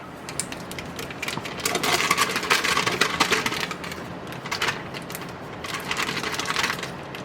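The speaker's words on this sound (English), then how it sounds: "I'm going to use my electric mixer here." An electric mixer whirs and rattles steadily while beating butter for a coconut cream cheese pound cake, loud and close with surging intensity and no talk.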